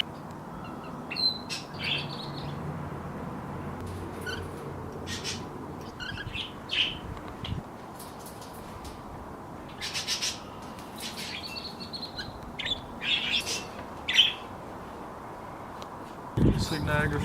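Cockatiels and other pet birds in an outdoor aviary chirp and squawk in scattered bursts over a steady background hiss, while people talk nearby.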